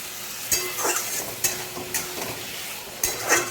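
A spiced mixture with yogurt being stirred and sautéed in a pan, soft sizzling under several distinct spoon scrapes and taps against the pan at an irregular pace, quiet and close.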